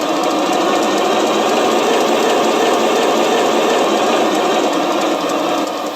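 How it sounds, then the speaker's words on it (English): Electronic RC tank engine sound from Taigen V2 electronics at throttle, a loud, constant buzzing whine with no pauses, heard alone throughout. "And new throttle sounds."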